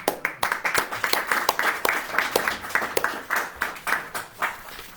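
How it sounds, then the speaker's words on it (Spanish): Applause rises from a church congregation during a communion service, with individual claps standing out in a lively, fairly close patter that holds for several seconds. "Un aplauso."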